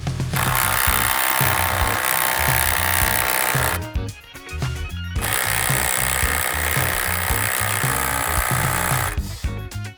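A Dnipro-M DTD-201BC cordless impact driver drives a long screw into wood, hammering loudly and continuously, stops briefly for about a second, then hammers again in a long burst before cutting off near the end.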